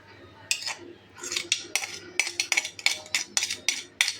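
A spoon scrapes and clinks rhythmically against a pot while mixing masala paste into aloo biryani rice, a rapid series of close, bright metallic strokes after a short pause at the start.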